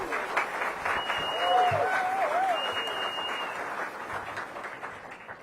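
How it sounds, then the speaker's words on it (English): An audience at a mayoral event marking a housing milestone of 36,000 new homes gives a round of applause, steady crowd clapping that swells slightly then tapers, with a voice briefly audible within it. "let's begin by once again giving her a wonderful round of applause for all the work that she's put into this"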